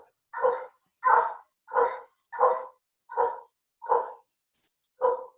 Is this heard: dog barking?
yes